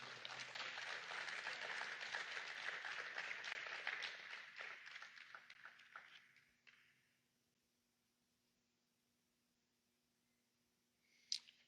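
A church congregation applauds in a thick burst of clapping that gradually thins and fades out after about six seconds, leaving near silence broken by one faint click at the end.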